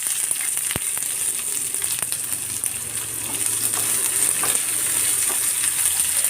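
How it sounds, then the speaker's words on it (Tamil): Onions frying in a pan with chana dal for spicy kuzhi paniyaram, a dense, continuous crackling sizzle held close and at an even level, with faint scraping and no voices. "இதில் வந்து வெங்காயம் போட்டுக்கிடுவோம்."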